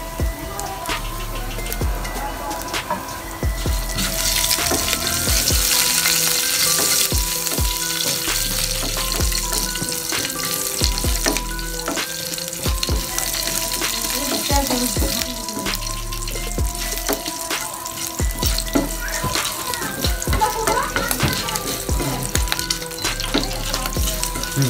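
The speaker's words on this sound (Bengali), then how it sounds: "এখন পাঁচফোড়ন প্রথমে ভেজে নিচ্ছি" Panch phoron spices fry in hot oil in a pan with a steady crackling sizzle, broken by frequent sharp clinks and scrapes of a stirring utensil.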